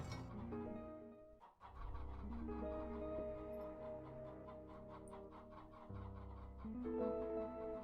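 A flock of chickens in the action game Undead Horde clucks steadily and busily throughout, overlapping with tonal game music and no talk.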